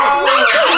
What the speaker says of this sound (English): She have a small dog